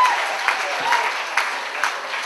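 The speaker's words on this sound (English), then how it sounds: "Big round of applause." Audience applause for comedian Kaye Smith at a student comedy show, a dense clapping wash with a few sharper claps standing out, steady for a couple of seconds.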